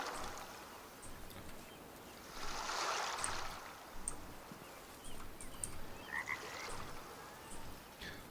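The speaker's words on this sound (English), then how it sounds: "I hear frogs." Frogs croaking in the video game Way of the Hunter, a soft chorus that swells in the middle and returns in scattered bursts over steady flowing water.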